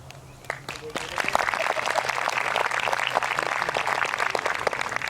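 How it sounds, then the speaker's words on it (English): A crowd applauds indoors at an eighth-grade promotion ceremony, the clapping swelling after a moment into a steady, dense patter that continues throughout. "please stand for one more round of applause."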